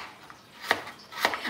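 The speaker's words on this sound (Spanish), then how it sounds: "Yo aquí estoy picando el mentado rábano" Knife chopping radish on a board for chicken pozole, two sharp separate cuts about half a second apart, fairly quiet and close, with no talk.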